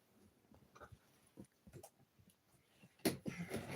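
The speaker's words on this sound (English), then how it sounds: "landed on Nikki's stand, and her pattern keeper fell on the floor" A cat tumbles onto a stand and knocks a cross-stitch pattern keeper to the floor, a sudden loud clatter and rustle near the end following quieter shuffling and soft indoor sounds.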